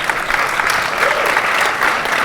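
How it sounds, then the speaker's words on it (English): Loud, steady audience applause from a Bitcoin 2023 conference crowd welcoming panel speakers onto the stage, dense clapping sustained throughout without pause. "Do we clap them as they come on stage?"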